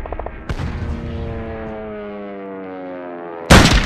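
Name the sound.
gunfire from the video game Return to Castle Wolfenstein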